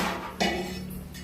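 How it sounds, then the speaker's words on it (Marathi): A tava griddle pan set down onto a home kitchen stove for cooking bhakri gives a single clanking metal knock, close and moderately loud, over a steady low hum of kitchen background. "तवा ठेवते भाकरीसाठी"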